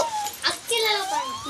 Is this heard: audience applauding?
no